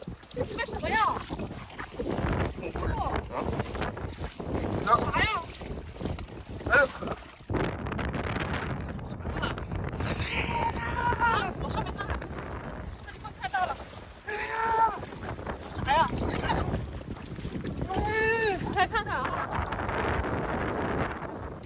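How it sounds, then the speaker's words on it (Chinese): Strong wind sweeps a beach at night, buffeting the microphone in gusty rumbles, with surf in the background and people talking over it throughout. "今天晚上是大风"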